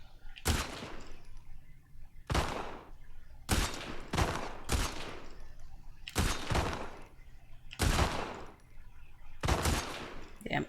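Bursts of gunfire in The Last of Us Part II, six or seven sharp, loud volleys of rapid shots spaced a second or two apart, with quieter game ambience between them and no clear talk.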